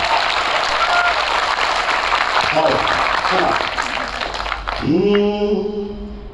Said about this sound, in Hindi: एक बार आप लोग ताली बजाइए ऐसे वाह।